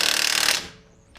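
A ratcheting, grinding mechanical burst from tightening a wheel hub nut on a 2007 Toyota Camry hybrid, loud and close, that stops abruptly after about half a second and leaves a faint tail.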